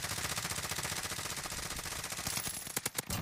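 Sustained automatic gunfire in Call of Duty Warzone on Rebirth Island, a fast, steady rattle of shots that ends in a few louder, separate cracks.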